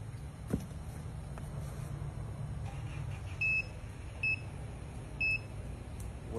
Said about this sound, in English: I don't know why they're beeping.